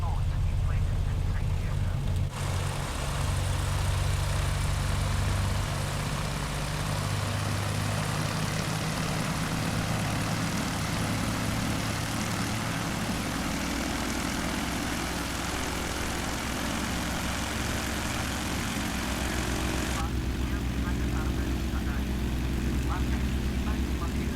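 A Britten-Norman Islander, a twin-propeller aircraft, taxis toward the runway with a constant loud engine and propeller drone heard from inside the cabin, steady throughout.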